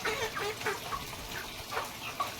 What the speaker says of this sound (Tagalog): Pakainin muna natin ating mga layers.